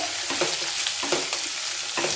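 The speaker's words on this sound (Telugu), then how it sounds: "ఉల్లిపాయ ముక్కలు కూడా వేసేసుకుందాం" Chopped onions frying in hot oil in a pan for a brinjal and dried fish curry, a steady loud sizzle with periodic stirring scrapes about every three-quarters of a second, no voices.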